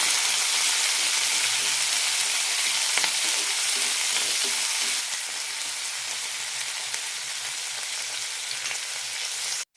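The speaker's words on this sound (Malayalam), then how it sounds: "തക്കാളി നന്നായി വേവുന്നവരെ വഴറ്റിയെടുക്കാം" Garlic and tomato sauté in a pan for a tomato garlic chutney, giving a steady, close, loud sizzle and crackle throughout with occasional stirring scrapes and no voices.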